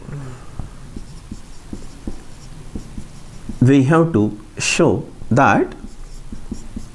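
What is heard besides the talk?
writing on a board during a math lecture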